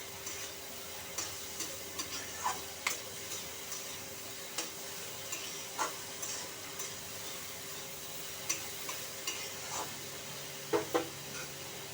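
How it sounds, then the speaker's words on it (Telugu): Turmeric fries in a pan for a ridge gourd paneer curry, a soft, quiet sizzle with a faint hum and scattered sharp spatula scrapes and taps. "పసుపు వేసి వేయించుదాం."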